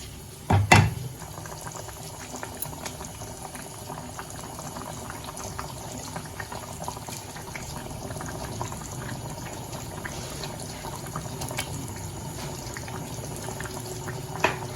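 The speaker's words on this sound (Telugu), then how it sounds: "ఇప్పుడు బాయిల్ అవుతుంది కదండి." Egg curry gravy boils steadily in a pot on the stove, with continuous soft bubbling and popping close by and a brief knock near the start, with no talking.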